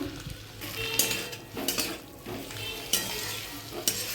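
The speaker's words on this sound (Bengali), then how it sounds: "ভালো করে নেড়ে নেবো।" A spoon stirs frying masala for paneer aloo dum in a pan, with repeated close scrapes and clinks over a steady low sizzle and no voices.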